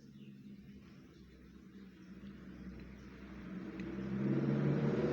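A scooter engine with worn CVT rollers idles and slowly revs up, its droning rumble growing louder and harsher toward the end, with no talking.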